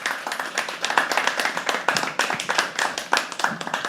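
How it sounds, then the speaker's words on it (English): Audience at a live poetry open mic claps steadily, a dense run of hand claps in an indoor venue, fairly loud and continuous. "Keep clapping, keep clapping"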